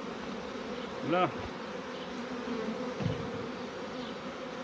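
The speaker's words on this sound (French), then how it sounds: "je vais vous mettre au cœur des abeilles" A honeybee swarm buzzes in a dense, steady drone close by, continuous throughout, with a couple of louder individual bees passing near.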